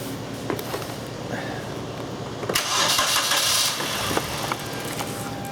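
A car engine with a suspected vacuum leak idles roughly after its adaptive fuel values are reset and it runs rich, stumbling and surging briefly midway before settling back to an uneven idle, close and steady with no talk.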